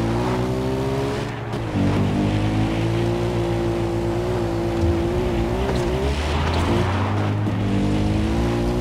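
A vehicle engine from the game Far Cry 4 drones loud and steady, its pitch rising and falling through gear changes, with no talk over it.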